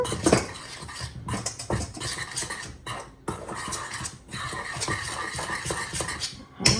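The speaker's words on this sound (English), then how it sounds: "then we're just going to give this a good little stir" A spoon stirring apple brownie ingredients with nutmeg in a bowl, making steady scraping and clinking against the sides in repeated strokes, close and moderately quiet.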